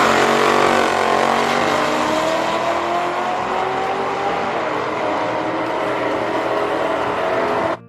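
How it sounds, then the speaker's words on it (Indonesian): A Chevrolet Camaro race car engine roars loud and close in one sustained, rising drone for several seconds before cutting off abruptly, with no talking. "Wih, mobil balap Chevrolet Camaro."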